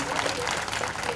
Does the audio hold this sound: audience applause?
yes